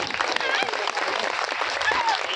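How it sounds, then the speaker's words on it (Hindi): Clapping rises from an audience at a Hindi devotional gathering, a dense, even patter of many hands with voices mixed in beneath it for the whole stretch. "तालियां बजाएंगे।"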